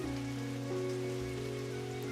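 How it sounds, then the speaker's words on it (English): Rain pours in a tennis-themed visual novel, an even, unbroken patter blended with a droning musical backdrop, no one speaking. "I realize that it's the sound of rain,"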